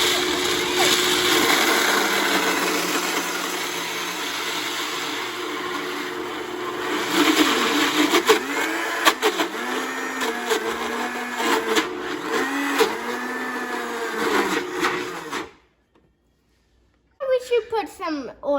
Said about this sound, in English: So now we're going to blend this.